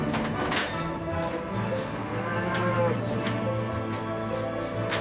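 Several cattle moo over one another, long low calls overlapping continuously as they are herded down a ramp into a holding pen.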